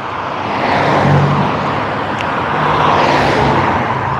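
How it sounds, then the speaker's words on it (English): Steady, loud roar of car traffic on a busy road, continuous wideband rumble and tyre noise swelling slightly as vehicles pass close by, with no voices. "It's probably very loud road"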